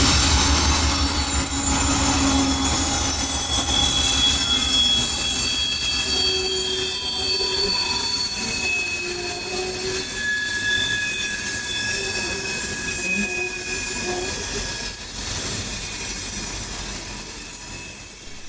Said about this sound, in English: taking the connection north by west onto the Callahan Sub is train IO32, carrying a plentiful bunch of fresh orange juice out of Bradenton bound for Kearney, New Jersey